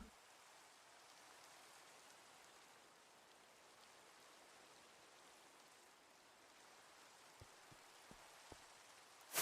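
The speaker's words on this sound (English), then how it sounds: "The rain again." Rain falls steadily in Minecraft's taiga biome, a soft, even hiss of drops at low volume with a few faint tapping sounds near the end and no talking.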